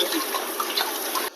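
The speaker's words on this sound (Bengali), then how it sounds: "এবার আমরা এখানে ডালের জন্য জল দিয়ে দিচ্ছি" Water gushes steadily into a cooking pot for mung and masoor dal at a large outdoor picnic cook-up, a continuous close pour that runs unbroken and then stops abruptly at the end.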